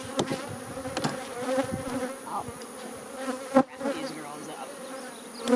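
Honey bees buzz steadily around an open hive, a dense close swarm drone that carries on throughout, with a brief spoken remark over it.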